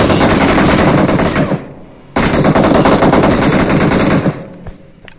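Close-range gunfire in a mobile shooter game played on an iPhone 11: two long, loud bursts of rapid automatic fire with a short pause between them, followed by a quieter tail.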